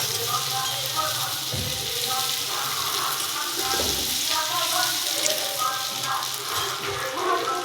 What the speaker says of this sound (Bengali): আলুটা সিদ্ধ করাই আছে, শুধু একটু ভেজে নেব।